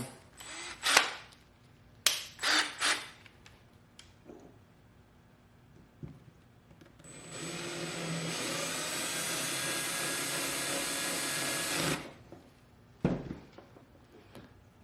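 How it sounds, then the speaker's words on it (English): A power drill drives a screw down in a fastener repair lab: a few short clicks and bursts, then a steady whirring run of about five seconds that stops abruptly, followed by a brief final burst. "Go ahead and drive it the rest of the way down here. Turn my drill down."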